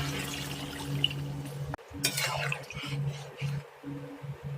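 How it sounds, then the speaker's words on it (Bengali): Water is poured into a pot of browned meat while it cooks, a short splashing rush over a low steady kitchen hum. "জল দিয়ে দিলাম।"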